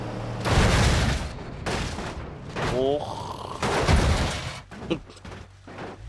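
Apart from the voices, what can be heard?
mine and TNT explosions hitting a Renault van in BeamNG.drive video game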